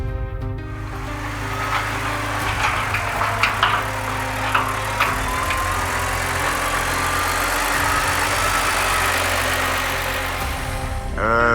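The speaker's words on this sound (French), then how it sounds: "Le BI fait donc la dépollution de cet axe avec un dispositif anti-mine accroché sur un véhicule blindé." Armored military vehicle fitted with an anti-mine device, clearing a road in an operation against Boko Haram: a steady engine idles and rumbles close by for the whole stretch, with a few brief clanks and knocks rising above it.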